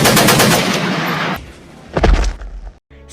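Gunfire in an Indonesian historical film scene: a dense loud burst of rapid automatic shots, then a brief lull before another cluster of sharp reports and a final quick rattle.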